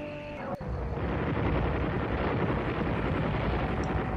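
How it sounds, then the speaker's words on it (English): Gunfire in the video game Oxenfree, a sharp crack followed by a rumbling, noisy boom that stays loud and dense for several seconds. "Okay, that's just gunfire."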